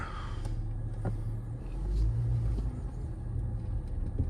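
A Dodge Charger SXT pulls away with a low, rumbling engine note that swells briefly midway, heard from nearby at modest volume with a few small knocks and clicks.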